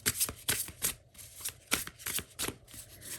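Tarot cards being shuffled by hand in a run of quick, soft riffling bursts and taps, close and fairly quiet, with short pauses between shuffles.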